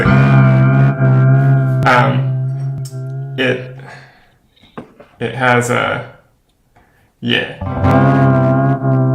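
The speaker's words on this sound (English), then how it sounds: "The granular texture, so the granular module is basically a micro loop." Layered, distorted synth drone from a granular module (micro-looping) on a ZOIA pedal, with stacked harmonics and stuttering, smeared textures, loud and reverberant, with brief speech and pauses partway through.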